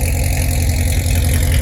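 Corvette with a loud aftermarket exhaust idling close by, a steady heavy low rumble with a slight uneven lope and no talking.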